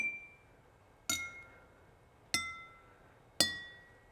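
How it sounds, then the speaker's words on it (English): Glasses filled with different amounts of water, forming a homemade xylophone, are tapped lightly three times, each giving a clear ringing tone that fades slowly, in a quiet room with no talking. "So we're gonna lightly tap the glasses."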